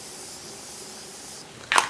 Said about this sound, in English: we are going to set our face with some setting spray